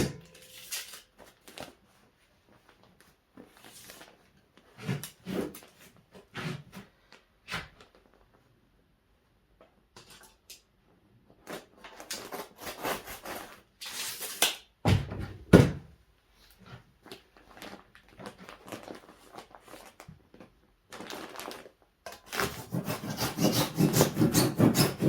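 Roof insulation is sawn with a bread knife in a shed, giving intermittent scratchy rasping strokes with quiet gaps, then growing into denser, louder continuous sawing toward the end.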